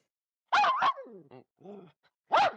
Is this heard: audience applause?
no